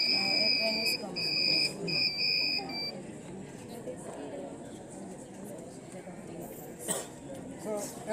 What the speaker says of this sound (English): the sensor will give information to the Arduino unit, which will activate the buzzers and lights, so that the people will be aware of a train is coming